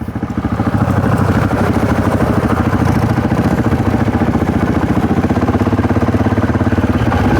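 A trail motorbike, a KLX 110 or DRZ400, ridden along a bush trail: a steady, loud, close engine drone with a fast rhythmic pulsing that holds evenly throughout, with no talk over it.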